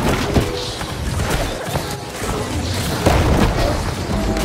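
Cannon fire in a multiplayer video game match on the Monarch's Bluff map: repeated heavy booms and thuds over a noisy battle background, loud and close, recurring every second or so.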